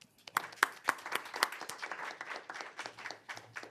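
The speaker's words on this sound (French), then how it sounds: "On peut les applaudir encore une fois" A conference audience applauds a moderator and panel, with a short burst of scattered, close handclaps that thins out after a few seconds.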